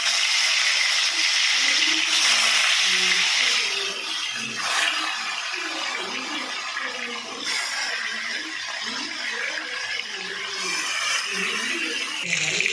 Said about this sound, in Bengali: তো ভেজে নেবো মাছটাকে